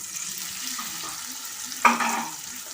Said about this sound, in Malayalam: ഇങ്ങനെ ഫ്രൈ ചെയ്തെടുക്കുമ്പോൾ ലോ ഫ്ലെയിമിൽ ഇട്ടിട്ട് ഫ്രൈ ചെയ്തെടുക്കുകയാണ് കേട്ടോ